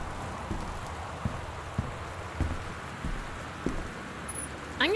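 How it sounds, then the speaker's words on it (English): Steady heavy rain pours outside a house during a loud storm in the game Gone Home, with a low continuous wash and a few soft thumps, with no voices. "Very, very loud storm going on outside"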